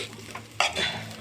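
Egg rice being stirred in a hot pan, a close scraping and tossing of the spoon through the rice over a soft sizzle, with a louder sweep midway.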